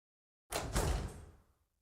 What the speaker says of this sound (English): The door closes with a click.